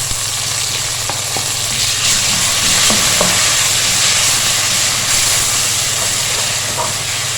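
Chopped onions fried golden with a tablespoon of ginger garlic paste sizzle and hiss steadily in a pan, with occasional stirring scrapes and no talk.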